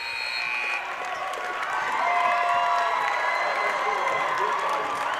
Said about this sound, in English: Both crowds stand in ovation for both teams.